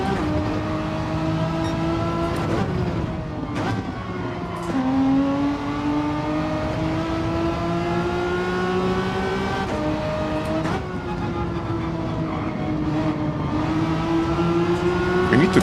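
Race car engine in Gran Turismo 7 held at high revs, a loud buzzing whine that climbs steadily through the gears with brief dips at each shift, running continuously and alone.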